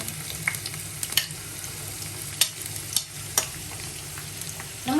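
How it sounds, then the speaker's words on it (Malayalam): Onions sizzling as they go into hot oil in a pan for samosa filling, a steady crackling fry with scattered sharp clicks of utensil contact, ending with a brighter surge of sizzle. "എന്നിട്ട് നമുക്ക് സവാള ഇട്ട് കൊടുക്കാം."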